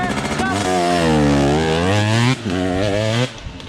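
Motocross motorcycle on a timed lap, its engine loud and close, pitch climbing and dipping as the throttle opens hard, cutting briefly before revving again.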